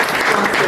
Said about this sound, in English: can we please clap for our partners